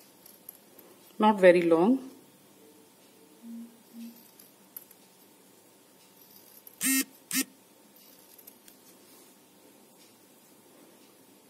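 Scissors snip thin strips of crepe paper for handmade flowers: two short, crisp cuts close together come after a brief spoken remark and a quiet pause.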